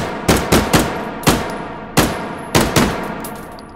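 A TT-33 pistol fires in the H3VR game, seven sharp, close shots spaced irregularly, each ringing out briefly, with metallic clinks between them.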